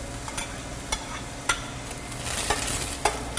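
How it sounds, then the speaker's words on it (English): Onions sautéing in melted butter for a polenta casserole, a soft steady sizzle with several sharp utensil scrapes and taps against the pan at regular intervals, close and alone without talk. "I'm going to go ahead and add the onions."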